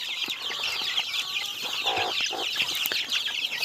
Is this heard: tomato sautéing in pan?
no